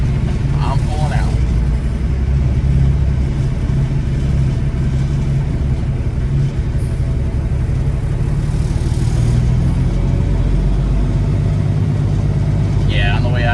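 A semi truck of an owner operator pulling out of a lot, its engine a loud, steady low rumble from inside the cab, with someone talking over it.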